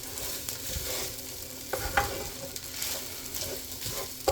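Cooked rice with lima beans and dill is stirred in a still-hot pot with the heat off, giving soft scraping and shuffling strokes with a faint sizzle and occasional sharper utensil knocks.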